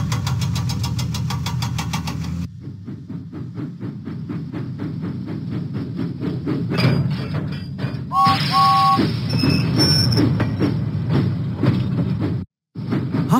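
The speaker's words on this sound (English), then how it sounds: "Huffing and puffing, James set out for Whiff's waste dump." Cartoon steam engine from a Thomas and Friends video game chugging along tracks, rhythmic puffing beats at first, then a steady engine rumble with short whistle-like tones and game effects, loud and close.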